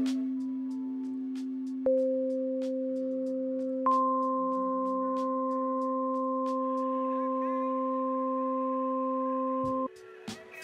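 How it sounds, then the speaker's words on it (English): A synthesiser tone holds steady for about ten seconds as harmonics are added one by one in slow steps, each new partial audibly brightening the sound before it cuts off. "let me play you an example where I slowly add some harmonics to a sound"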